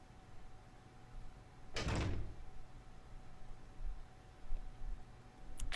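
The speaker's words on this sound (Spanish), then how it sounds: "Déjame ver, está cerrada. Está cerrada esa pinche puerta." A locked door is tried in the video game Resident Evil Zero, a single rattling clunk of the handle and frame about a third of the way through, over a quiet hum, followed by a faint click at the end.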